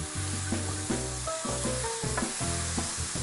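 Diced red and green peppers cook in a pan with a beef enchilada mixture, giving a continuous sizzle with rhythmic spoon scrapes and knocks while stirring, close and alone.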